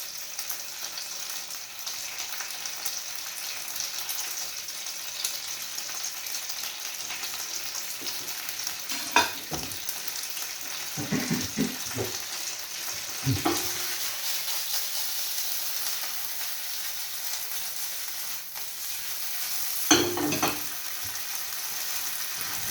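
Smoked sausage pieces frying in a pan before becoming part of a breakfast omelette, producing a continuous close sizzle with occasional clattery bumps from the pan and utensil.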